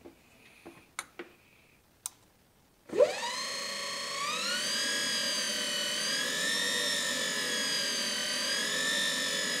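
An electric motor on a Sebring Citicar, driven through an Alltrax controller, spins up under throttle with a rising whine that climbs and then holds as a steady, loud, multi-toned hum, preceded by a few sharp clicks.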